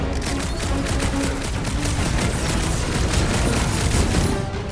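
Dense, continuous video-game gunfire: rapid bursts and booming shots pile into a loud, sustained barrage with no clear pauses, close and filling the whole stretch.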